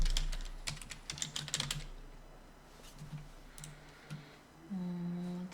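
Keys on a computer keyboard are pressed for the Ctrl+Home shortcut, giving a quick cluster of light plastic clicks followed by a few sparser, isolated taps, close and clear in a quiet room.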